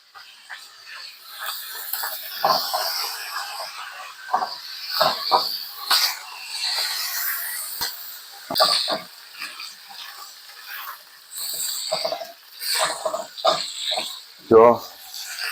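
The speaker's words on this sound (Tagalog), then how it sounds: "i-mix natin guys yung baboy guys. Gisa muna natin siya guys." Diced pork sautéing in a pan for adobo with potatoes, a close, steady crackling sizzle with intermittent louder pops and stirring clatter throughout.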